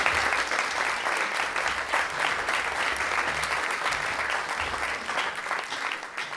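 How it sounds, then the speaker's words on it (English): Audience applause at a book festival, a steady wash of many hands clapping that holds at an even level throughout and thins slightly toward the end. "So, please, a huge round of applause,"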